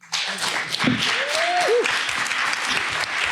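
A conference audience applauds its panelists with a dense round of clapping that starts abruptly and stays loud and steady, with a brief voice heard faintly under it.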